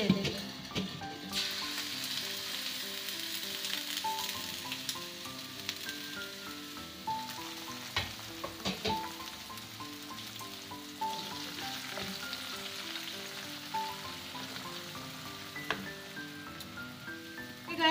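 A tadka tempering sizzles steadily after being poured into a pot of haleem, a continuous crackling fry with light stirring and no talk.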